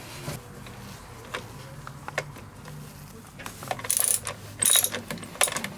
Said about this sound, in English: first step is to remove these bolts here. There's 4 of them on the small block Chevy valve cover, and these are 7/16 bolts